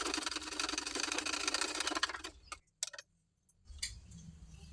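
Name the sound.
sewing machine stitching the joint of a neck strip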